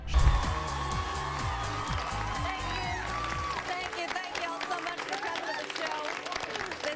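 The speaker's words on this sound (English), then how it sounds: "The crowd claps and cheers." A studio audience at a late-night comedy sketch show claps and cheers as a performer dances in, a dense burst of applause that starts loud with a low thump and carries on steadily under music and talk.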